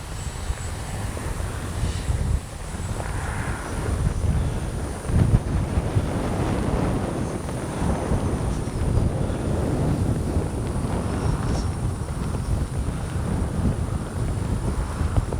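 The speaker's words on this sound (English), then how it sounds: "it's windy." Strong wind buffets the microphone in a steady, rough roar, with a faint high whine from a 64mm electric ducted fan RC jet running through it.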